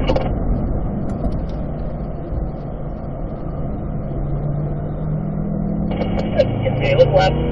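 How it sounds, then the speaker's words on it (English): A car on a race circuit accelerates with a steady engine drone, then upshifts to fourth gear and pulls on; a voice talks over the engine. "we're going to upshift there to fourth gear"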